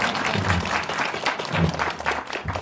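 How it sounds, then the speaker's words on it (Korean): An audience at a Korean film screening Q&A claps in a dense, fairly close burst of applause that swells and fades over a couple of seconds. "자, 박수 한번 쳐주세요."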